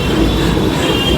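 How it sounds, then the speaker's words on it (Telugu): A Mumbai local train runs along the track, a loud, close, continuous rumble and rattle with high wheel squeal, heard from on board in a brief steady burst with no voices. "ఈ సీట్లోని ట్రైన్లో కంటిన్యూ చేద్దాం జర్నీ."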